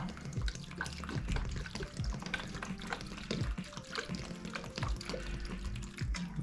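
Water pours and splashes steadily into a tray of tomato seedlings, with trickling and dripping throughout and no voices.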